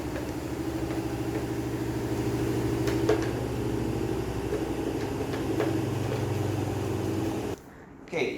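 A washing machine runs steadily in a home kitchen, a continuous mechanical hum with faint clicks, then cuts off abruptly near the end.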